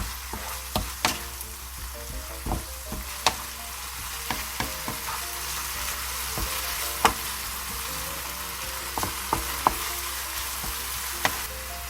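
Kimchi rice being stir-fried with sugar in a pan, a steady sizzle broken by sharp scraping and clicking strokes of the spatula at irregular intervals, close and fairly quiet, with no talking.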